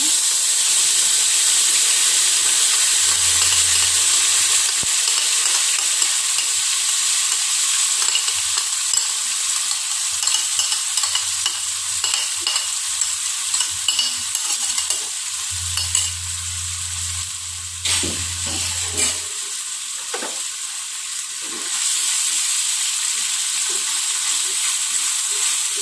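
Spice paste for mangut, blended with water, sautéing in hot oil in a pan, with a steady close sizzle and hiss throughout and occasional stirring scrapes over a low hum.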